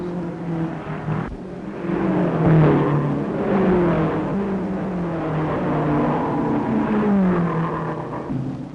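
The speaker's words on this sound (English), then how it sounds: "The surging power of the supercharged engines gives wings to their wheels." Supercharged 1930s race cars roar at the Tripoli road race, engines surging and revving in rising and falling tones, with one sharp crack early on and a continuous loud drone.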